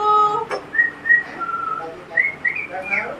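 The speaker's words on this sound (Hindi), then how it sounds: "इधर ही बजा दूं मैं सीटी" A handheld whistle is blown in a home setting, giving several short, shrill tweets and warbling bursts in an uneven rhythm, with faint voices in the background.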